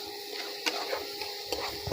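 Omelette curry masala with green chilli and a little sugar is sautéed in a pan. Soft spatula scrapes and clicks come at uneven intervals over a low, continuous sizzle, with no talking.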